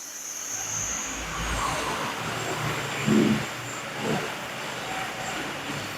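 A Toyota Avanza with an automatic gearbox that shifts roughly drones steadily in third gear, heard from inside the cabin as a constant broadband engine and road rumble with slight swells and no talk.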